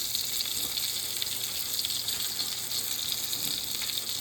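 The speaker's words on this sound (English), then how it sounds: "Cooking in the frying pan with the syrup" Apples frying in syrup in a frying pan, a steady close sizzle with bright hiss throughout and faint stirring scrapes underneath.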